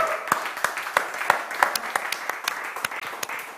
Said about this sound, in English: Massive round of applause, everybody, for Sai.